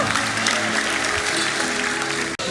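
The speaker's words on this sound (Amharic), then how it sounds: "አጨብጭቡ ለጌታ ክብር።" A church congregation claps loudly and steadily as one dense mass of applause, with a few voices faintly audible underneath. The clapping breaks off abruptly near the end.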